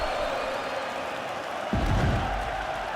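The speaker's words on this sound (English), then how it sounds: "So the crowd voicing its appreciation after that round" Game crowd in UFC 5 rises into applause and cheering about halfway through, a broad steady roar of clapping that swells suddenly and fills the space after a fight round, with no talk over it.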